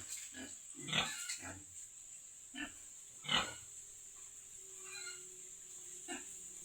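Pigs on a pig farm grunting in short scattered bursts, a couple of louder close grunts among fainter ones, over a quiet background with a steady high hiss.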